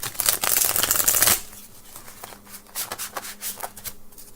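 Thick, heavy-cardstock cards riffle in a dense, rapid burst, followed by a series of softer, separate flicks and taps as the deck is handled.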